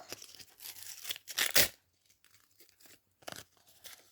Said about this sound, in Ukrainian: Розпаковуємо пакетик.